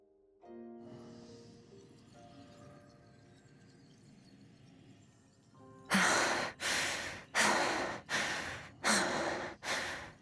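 A game character breathes close and loud, a run of about six heavy, rhythmic breaths in quick succession after a quieter, softer stretch with faint background music.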